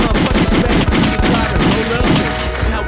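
Rapid bursts of gunshot sound effects, a dense fusillade of repeated shots like machine-gun fire, loud and continuous with voices mixed underneath, played on a podcast.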